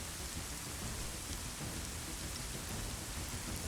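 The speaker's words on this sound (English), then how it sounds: "You King's can about to walk very right faintly hear the rain" Steady rain in a video game, a dense continuous hiss of falling rain on surfaces with low rumbling beneath, constant and even throughout with no voices.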